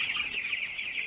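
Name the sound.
chicken clucking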